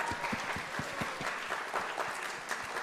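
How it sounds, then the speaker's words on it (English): A theater audience at a school youth philanthropy event claps for people being thanked, with a moderately distant, lively patter of many hands and a few sharper individual claps standing out. "Could we please get a big round of applause for them?"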